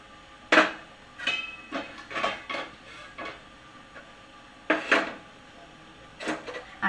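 A utensil stirs milk in a pot for basundi, making sparse, uneven clinks and scrapes against the metal, close and fairly quiet, with short pauses between strokes.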